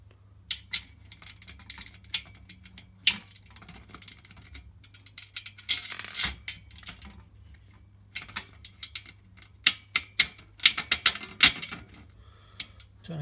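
Bolts go into a metal shelving rack by hand, producing irregular clusters of small metallic clicks, taps and rattles with quiet gaps between, fairly close.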